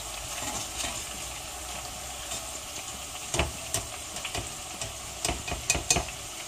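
Tender potatoes frying gently in a pan give a soft, continuous sizzle, broken by several close clicks and scrapes of a utensil moving them around, with no talking.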